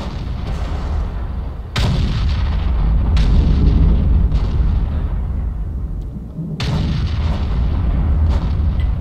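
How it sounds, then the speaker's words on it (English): Heavy, booming tank gunfire in World of Tanks-style test server gameplay with a T40 crashes repeatedly with sharp onsets, rumbling continuously between shots in a loud, dense barrage. "those gun sounds are evidently one of the improvements"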